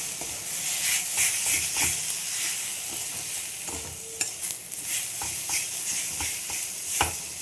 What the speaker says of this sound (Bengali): দিয়ে দিলাম কারি পাতা।